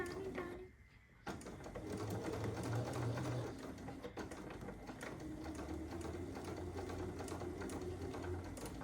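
A home sewing machine stitches tiny quilt pieces in short runs, its quiet mechanical hum rising and pausing over several seconds in a quiet room, with brief handling noises between bursts.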